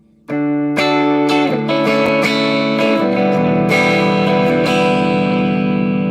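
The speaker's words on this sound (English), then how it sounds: "kind of just a nice clean sound with a little delay" Clean electric guitar notes and chords, played on the middle pickup setting through a delay effect, ring out alone, each with a soft trailing echo, steady and close.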